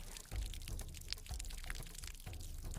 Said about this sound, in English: For big water leak.